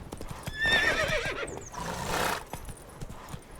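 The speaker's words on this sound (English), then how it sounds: "Whoa there, Roach" Roach, a horse in The Witcher 3 video game, lets out a high whinny while hooves clop steadily underneath, close and clear.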